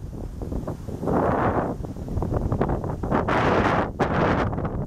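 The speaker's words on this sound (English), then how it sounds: "A lot of the wind in this video." Strong outdoor wind buffets a microphone in Mio, Michigan, with heavy, irregular rumbling gusts that surge and fade in waves, loud and close, with no voices heard.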